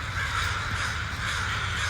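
A large flock of crows caws in a dense, overlapping chorus outdoors, loud and continuous with no pause, and no voices over it.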